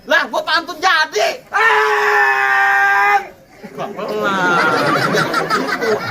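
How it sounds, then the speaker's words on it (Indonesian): A person lets out a long, loud, high-pitched scream in a comedic sketch. Rapid excited talk and laughter-like sounds come just before and after it. "Pantun aja, gak usah teriak-teriak dong."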